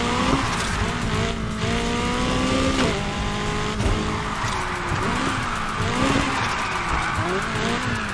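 A Nissan 180SX drifts in NFS Heat, its engine revving and wavering in pitch while tires squeal and skid loudly and continuously throughout.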